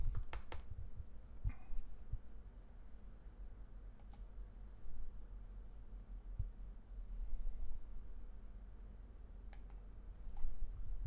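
Mouse clicks while selecting a 3D view in building design software: a handful of short, crisp clicks, some in quick pairs, fairly close over a quiet low background hum.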